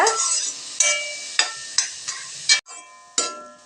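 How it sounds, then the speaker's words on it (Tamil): Grated carrots sautéing in ghee in a pan for carrot jaggery halwa, with a soft steady sizzle broken by several sharp scraping stir strokes at close range and no voices. "ஒரு 2 நிமிஷம் நெய்யில் நல்லா வதங்கட்டுங்க"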